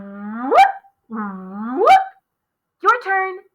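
A voice imitates a police car siren in a children's music class with three short, upward-swooping whoops separated by brief pauses, close and fairly loud.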